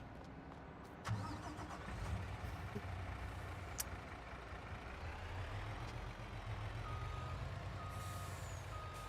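A farm truck idles and moves during a harvest, its engine rumbling steadily and fairly quietly throughout, with reversing beeps faint in the background.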